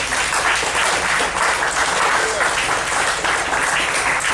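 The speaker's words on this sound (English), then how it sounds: "give my father a bit of applause" A bookstore audience in Pasadena claps for a speaker's father, sustained, loud, dense applause from a roomful of people running without a break for the whole stretch.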